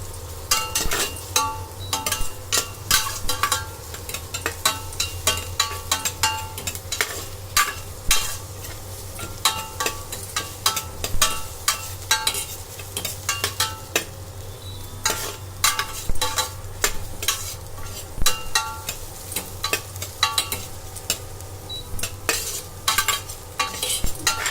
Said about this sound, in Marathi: चांगलं कांदा भाजून द्यायचो.